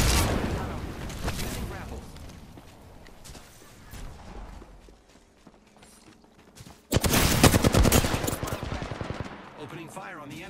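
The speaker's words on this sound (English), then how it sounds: "Opening fire on the enemy." Bursts of automatic gunfire in the Apex Legends shooter, with loud rapid shots at the start, a quieter lull of distant fire and mechanical clicks, then a heavy sustained volley near the end, under occasional game voice lines.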